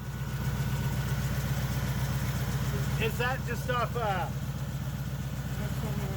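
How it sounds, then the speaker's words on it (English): Ford Flathead V8 retrofitted with fuel injection from an 1989 Mustang, idling close by in a low, even, throbbing rumble while a voice briefly speaks over it. "I was at a total loss for words looking at this engine and hearing it run."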